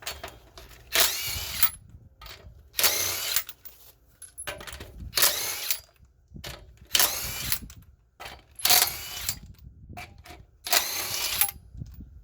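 An impact wrench with a 21mm socket works on a 2003-2009 Toyota 4Runner's front wheel area, firing in six loud short hammering bursts at regular intervals, with quiet clinks and handling noises between them.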